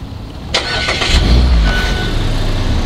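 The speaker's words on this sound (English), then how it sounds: "When you crank it up, it goes into the Sky Active fast start mode, which means it idles high" A 2016 Mazda MX-5 Miata engine cranks and catches, then settles into a loud, steady high idle in Skyactiv fast start mode with a deep rumble, close by.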